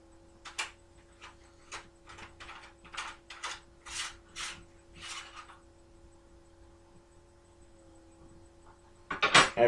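Disassembling a Mosin rifle: a run of short metallic ratcheting clicks as a part is unscrewed, irregularly spaced and close, over a low steady hum, ending with a brief louder clatter.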